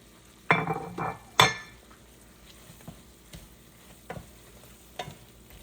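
Shrimp are tossed back into a hot pan and stirred, giving two loud bursts of sizzling scrape early on, then quieter intermittent clinks and stirring sounds with no voices.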